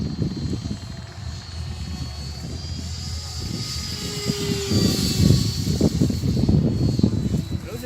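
Radio-controlled SU-30 model jet powered by a 70 mm electric ducted fan, a steady high-pitched whine sustained throughout and swelling louder midway, with rumbling outdoor noise and handling sounds underneath.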